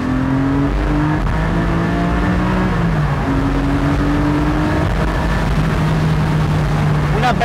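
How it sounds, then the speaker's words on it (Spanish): A naturally aspirated 420 hp flat-six boxer engine in a Porsche 718 Spyder revs up through several rising pitches, with a throaty, steady drone close by and a brief sweep at the end. "un nuevo motor boxer de 6 cilindros atmosférico"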